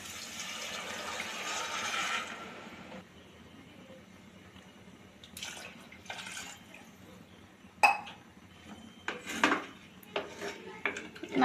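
Coconut milk poured into a pot of rice and stirred, starting with a soft liquid pour, then quiet stretches broken by sharp clinks of a metal spoon or tumbler against the pot, close and intermittent.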